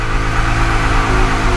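Ford Mustang engine held at a steady, loud rev during a line lock burnout, a dense sustained roar with no break.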